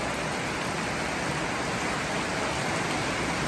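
Steady rain with wind at a rural schoolyard in Vietnam, a constant dense hiss filling the air with no breaks or voices.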